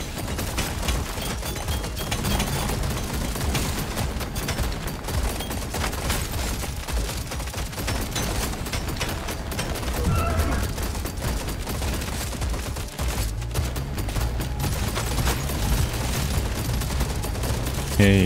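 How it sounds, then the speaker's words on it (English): Rapid, relentless gunfire from Deep Rock Galactic: Survivor runs continuously under busy game sound effects, a steady moderately loud rattle with no pauses. "That's the fire rate on this gun."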